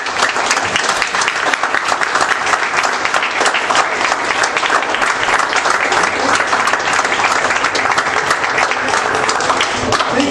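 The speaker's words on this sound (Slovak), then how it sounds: "by som vypýtal tým zamestnancom tohto hotela ten veľký potlesk" Loud, sustained applause from an audience at a tournament finals awards ceremony, honoring the hotel staff, with dense continuous clapping throughout.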